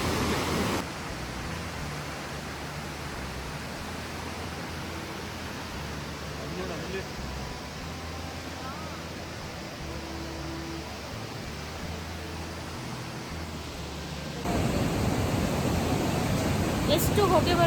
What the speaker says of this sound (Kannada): ಎಷ್ಟು ಹೊಗೆ ಬರ್ಕೊಂಡು ನೋಡಿ ಅಂತ ಕುದೀತಾ ಇರೋದು ನೀರು.